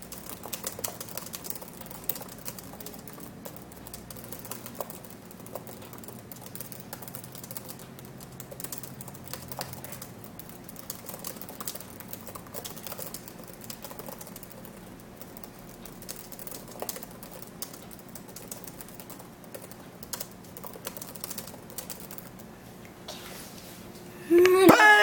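Very fast, continuous typing on a computer keyboard during a timed typing test, a dense stream of light clicks lasting the whole stretch, with faint murmuring and a louder burst of voices at the very end.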